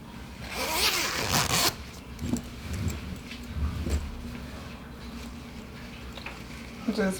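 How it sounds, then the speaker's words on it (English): A zipper on a crochet jacket is pulled, a fast raspy zip near the start followed by a few softer zipping strokes, close up, with a quiet voice talking in the background. "You can zip it out."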